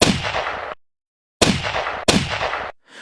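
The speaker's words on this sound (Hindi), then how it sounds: "तुमने सीधा उस जानवर की आंखों पर लगातार 3 गोलियां दाग दी" Three sharp pistol gunshots ring out as a sound effect: one shot, a pause, then two more in quick succession, each loud and abrupt with a short decaying tail.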